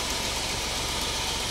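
Engine idling steadily in a vehicle with an SM420 four-speed gearbox as a gear change is attempted, a close, even rumble with no break.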